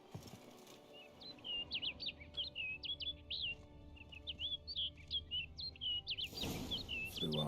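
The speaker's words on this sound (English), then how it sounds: "We're chasing a bird." In Witcher 3: Blood and Wine, a single bird gives a rapid series of bright, chirping whistled phrases, repeated in two bursts over a low game-ambience hum before a louder rush of sound at the end.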